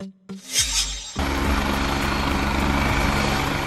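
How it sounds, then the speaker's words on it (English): A Coast Guard helicopter, of the kind flown for sea search and rescue, roars in after a brief lull, its loud, steady rotor and engine noise filling the rest of the clip with a constant rumbling wash. "This is a helicopter used by the Coast Guard for missions such as sea search and rescue and maritime law enforcement."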